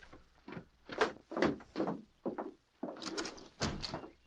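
A wooden door is opened in an old Western radio drama sound effect: a run of clunks and creaky scrapes in uneven bursts, close and alone without speech.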